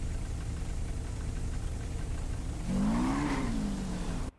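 Motorcycle engine idling in a roleplay video game, a steady low mechanical drone with a brief rising and falling swell near the end, then a sudden cut-off.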